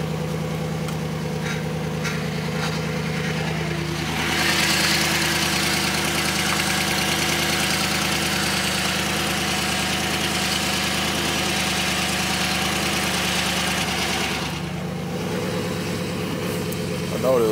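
A car engine runs steadily at idle, a loud close rumble with a constant low hum. In the middle stretch it swells into a rougher, louder roar for about ten seconds before settling back to idle.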